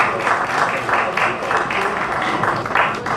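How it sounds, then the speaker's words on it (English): Applause from an audience at a trade summit, a moderate, steady patter of many hands clapping that carries on throughout, with speech mixed in. "I think we need a lot of applause for that."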